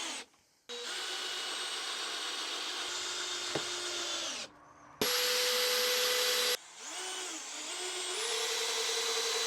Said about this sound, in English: we're going to drill them in diagonally on the side